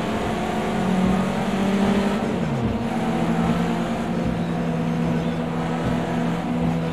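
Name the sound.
race car engine from video game Project CARS 2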